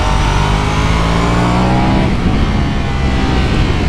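Motorcycle engine accelerating hard in first gear out of a turn, a loud continuous roar rising in pitch throughout, alone without voices.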